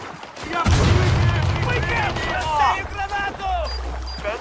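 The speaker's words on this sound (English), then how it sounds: "I'm hearing gunfire here." Rapid bursts of gunfire crackle through a street shootout in Watch Dogs 2, mixed with shouting voices and game sound effects at moderate loudness.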